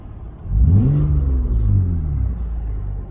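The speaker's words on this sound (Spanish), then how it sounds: "es el escape, se escucha súper bien" A Mitsubishi Eclipse 4G with its muffler removed revs up, a close, loud, deep engine rumble that rises in pitch, peaks and then settles back into a steady growl.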